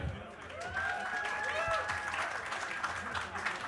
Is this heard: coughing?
no